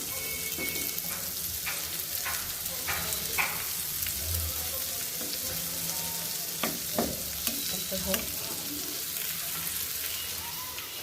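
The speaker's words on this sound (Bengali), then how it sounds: "আর এখানে হচ্ছে মাছগুলো ভাজা হচ্ছে।" Fish fries in a covered pan with a steady, moderate sizzle and scattered sharp crackles and pops throughout, a constant kitchen hiss underneath and no talking.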